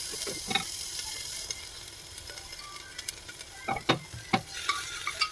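Spices and cumin seeds frying in ghee while being stirred, a gentle continuous sizzle broken by quiet, irregular spatula scrapes and taps that grow more frequent toward the end.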